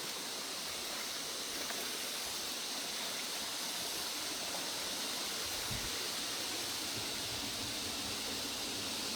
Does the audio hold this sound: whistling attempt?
no